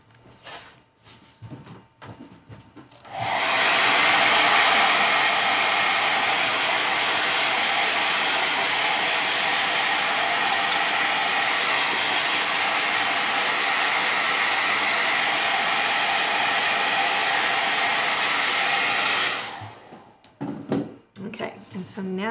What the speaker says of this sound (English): now I'm going to dry that real quick so that it doesn't pull off when I do the next step